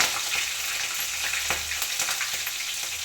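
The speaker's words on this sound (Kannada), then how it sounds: "ಮೆಣಸಿನ್ಕಾಯಿ ಸ್ವಲ್ಪ ರೋಸ್ಟ್ ಆಗಬೇಕಾಗುತ್ತೆ" Green chillies roasting in hot oil in a pan give a steady, close sizzle and crackle with occasional stirring scrapes throughout.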